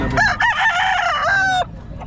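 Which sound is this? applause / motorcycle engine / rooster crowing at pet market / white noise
rooster crowing at pet market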